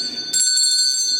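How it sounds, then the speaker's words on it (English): An electric bell rings in a stately house, a bright, sustained metallic ringing that starts abruptly and continues loud and steady to the end. "Gerald, ring the bell"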